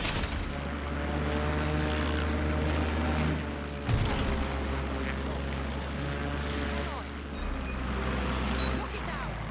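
A drone flying in the video game Watch Dogs Legion, a steady droning mechanical hum with whirring propeller tones that runs throughout, briefly cut by a jolt, with some talk faintly in the background.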